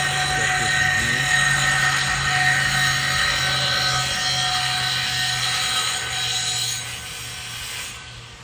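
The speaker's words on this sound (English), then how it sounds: "Cut the post off, match the finished height we need." A grinder with a cutoff wheel slices through a light square steel tube post, giving a loud, sustained high whine for about seven seconds before easing off.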